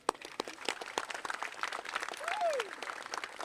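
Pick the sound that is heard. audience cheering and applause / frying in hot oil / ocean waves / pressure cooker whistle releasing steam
audience cheering and applause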